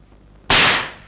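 A pistol shot rings out in an old Indian film scene, one sharp loud crack that snaps in suddenly after near silence and then decays over about half a second.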